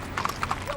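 Horses warming up at dawn before the Rose Parade on Colorado Boulevard, a quick run of several crisp hoof clip-clops on pavement, fairly close and loud.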